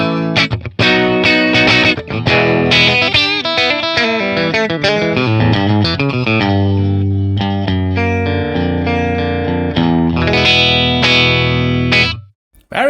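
An electric guitar played through a Matchless Laurel Canyon amp in the in-between pickup position rings out with loud, driven picked notes and chords, then settles into long sustained tones before cutting off near the end.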